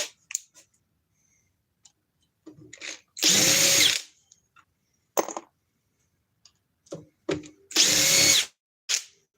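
Two loud bursts of a heavy power drill whirring for about a second each, separated by scattered clicks and handling noises, with no talking.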